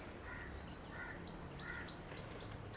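At a Sunday pigeon market in Lalukhet, small birds give short, faint chirps in a repeating pattern over a steady background hiss, with no voices heard.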